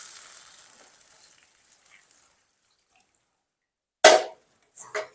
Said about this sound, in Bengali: এরপর আমি 4 কাপ মতো গরম জল দিয়ে দেবো।